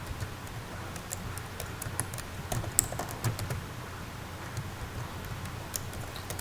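A password is being typed on a computer keyboard, heard as light, scattered taps spread through several seconds. The keystrokes are faint against a steady background hiss, with no speech.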